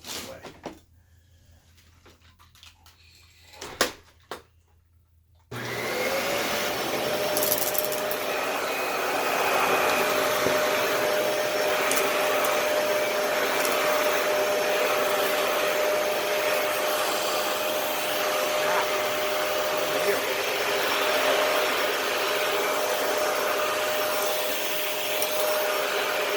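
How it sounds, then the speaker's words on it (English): Dyson DC-41 Animal Complete vacuum cleaner switching on after a few quiet seconds of small handling knocks, then roaring steadily and close as it sucks up a bit of hair, a continuous loud drone with a faint whine. "the cleaning up of that little fuzzball was provided by the Dyson DC-41 Animal Complete"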